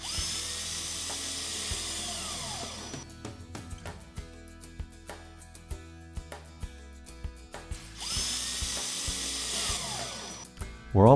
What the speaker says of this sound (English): Now, fasten the stringer into place with deck screws.